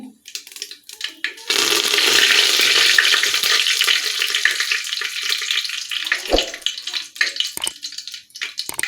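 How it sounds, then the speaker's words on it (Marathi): Curry leaves hit hot oil already crackling with mustard seeds and cumin, bursting into a loud, dense sizzle that holds for several seconds and then gradually thins into scattered spitting pops. "आता मी याच्यामध्ये कढीपत्ता टाकत आहे"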